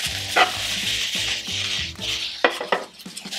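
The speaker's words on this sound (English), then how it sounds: "I will cook my onions until they're soft" Onions sautéing in a pan, with a steady soft sizzle under occasional utensil scrapes and clinks against the pan, close and alone with no voices.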